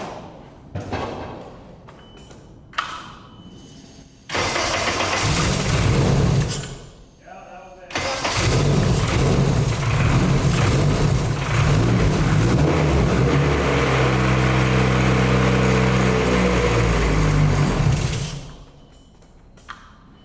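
Nissan Cefiro with a swapped Honda K24 engine cranking and firing up, then settling into a loud, steady idle for over ten seconds before cutting off, with brief knocks and thuds before it starts.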